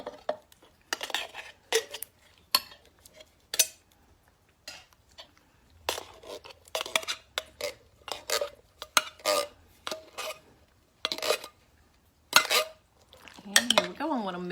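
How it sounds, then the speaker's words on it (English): A spoon scrapes and clanks against a pot as chili beans are stirred into a meat mixture, in irregular bursts of metallic clinks with quiet gaps between them. "I want to mix those up if you can see"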